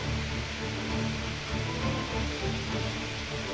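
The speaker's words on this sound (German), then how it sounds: "Hier ist er nun, der große Wasserfall. Um die 30 Meter stürzt das Wasser in die Tiefe." The large Stuiben waterfall, water plunging about 30 meters, makes a dense, steady roar of rushing water, loud and unbroken throughout.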